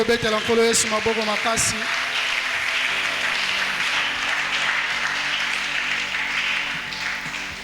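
Church congregation applauding together, a dense, steady clapping wash that lasts throughout and slowly tapers, with a few louder claps and some voices at the start.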